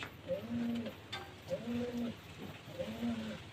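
Pet pigeons coo at close range as they come forward to drink freshly given water on a rainy-season day, with three rolling coo phrases spaced evenly over a soft background hiss.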